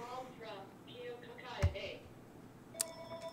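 A telephone rings from an incoming robocall indoors, two short ringtone bursts with tonal beeps spaced about a second apart, moderately loud against quiet room noise.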